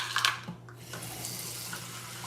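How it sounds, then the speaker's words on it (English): A kitchen tap runs into a pot to measure three cups of water for Jamaican cornmeal porridge, a steady close rushing stream with a brief splashy burst at the start. "I'm gonna start with 3 cups of water"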